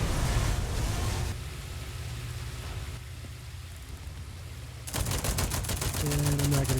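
A fighter plane's machine guns fire in dense rattling bursts during War Thunder arcade-mode aerial combat, loud at the start, dropping under a steady engine drone, then returning in rapid bursts at the end.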